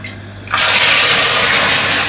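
Vinegar hits a hot pan of browned sugar for a duck orange sauce, bursting into a sudden loud, steady sizzle that fills the kitchen after a quiet moment, with no talk.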